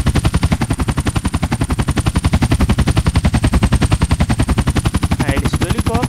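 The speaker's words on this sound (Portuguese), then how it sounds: "A hélice do helicóptero" A helicopter's rotor in the video game GTA San Andreas, from a modded sound pack, chops in a rapid, relentless rhythmic thumping, loud and close, with a faint high whine running through it.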